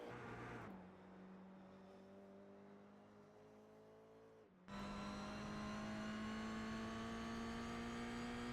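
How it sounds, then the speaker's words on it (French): A Toyota GR86 race car in the Coupe GR86 series is heard onboard on a warm-up lap on cold tyres, its engine droning steadily, then easing off briefly before revving up again on a rising tone, close and alone. "Faire un petit tour à bord de la voiture de Jérémy."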